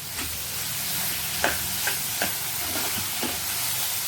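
Crushed curry leaves hit hot oil, giving a constant close sizzle broken by several short crackles and spatters, with stirring heard beneath.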